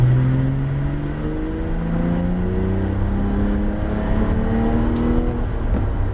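Porsche 911 GT3 RS accelerating on the wet Abbeville circuit, a steady close engine drone rising through the revs with overlapping tones, continuous and loud inside the car with no talk.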